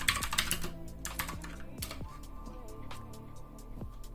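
Quick, fairly close keystrokes on a computer keyboard type a command into a Raspberry Pi terminal, with a rapid burst of clicks at first and then sparser taps.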